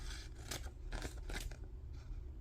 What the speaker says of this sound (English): And I'm just going to cut.